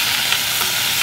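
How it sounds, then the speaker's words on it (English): Onions sauté in about two tablespoons of hot oil in a pan, a steady, dense sizzle and crackle, close and fairly loud, with no talk over it. "what we're gonna do is we're gonna let that saute a little bit"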